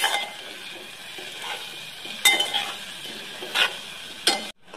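Potatoes being stirred into cumin pulao in a pot, with soft scraping and stirring over a faint sizzle, punctuated by a few sharp spoon clinks against the metal pot.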